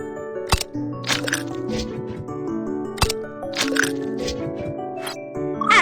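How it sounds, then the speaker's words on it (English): Eggs cracked for taiyaki batter, three sharp, close cracks against a bowl's edge, spaced apart, with soft shell crunches and light kitchen clatter between them over quiet background music. "Crack 3 eggs."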